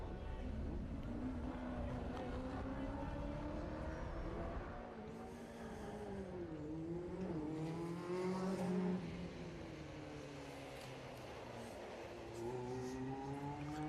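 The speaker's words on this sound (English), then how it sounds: "with the sound of the V8 on board, car 194" Onboard a V8 historic race car, number 194, at a grassroots sprint meet, the engine revs and drops through several gear changes, rising and falling in pitch, with a commentator talking over it.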